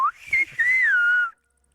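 A person whistles a name in Silbo Gomero, the whistled language of the Canary Islands. A single clear, sliding whistled phrase about a second long rises and falls in pitch, loud and alone, then cuts to silence.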